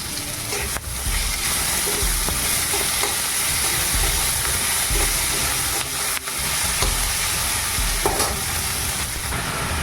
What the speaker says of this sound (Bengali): রসুন বাটা আর এসে কাঁচা লঙ্কা বাটাটা দিয়ে দিচ্ছি একটু নাড়াচাড়া করে